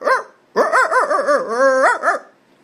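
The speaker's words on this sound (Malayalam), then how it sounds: "ഒരു നാട്ടുനായ് എപ്പടി കുരയ്ക്കാൻ നോക്കാം" A native Indian street dog barks close and loud: one short bark, a pause, then a rapid run of about six barks blending into a drawn-out yowl and two final barks.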